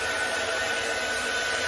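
A blow dryer with no diffuser attached, blowing hair, gives a loud, steady, close whirring hiss that holds unbroken throughout, with no voices.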